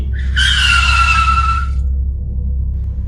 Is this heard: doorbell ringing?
no